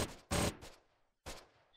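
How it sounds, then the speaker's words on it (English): Machine gun fire in the Close Combat wargame: two short, sharp bursts separated by a pause, each decaying quickly, with no voices. "you see that the MG is firing"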